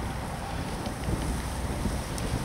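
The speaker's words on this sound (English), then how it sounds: "The wind's freshening up." Wind freshening over open water at a carp fishing spot, a steady broadband rush and buffeting against the microphone with no speech.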